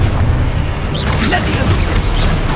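Spell-cast explosions boom in the Hogwarts Legacy video game as loud, rumbling bursts within a dense wash of combat effects, while a voice calls out over the action.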